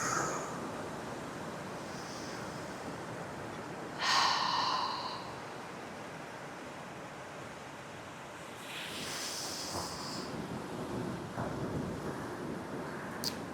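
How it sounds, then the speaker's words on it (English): A person breathes deeply in and out during a standing stretching routine, with a sharp, audible breath near the start and a longer, softer exhale later, all faint and close against quiet background hiss. "Continuing to take full deep breaths in and out."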